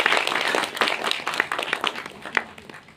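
Audience clapping for a student who topped the class at a college gathering in Mirpur, AJK: a steady, moderately loud patter of many hands with a few sharper individual claps, no voices over it.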